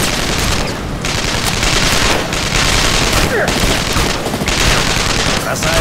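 Sustained automatic gunfire in the video game Armed Forces Corp, dense, loud bursts of rapid shots with booming impacts, a voice speaking over the barrage.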